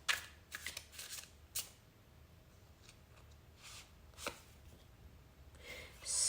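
Tarot cards are drawn and shuffled close by in a quiet room, with a few quick riffling bursts and soft slides between near-silent stretches.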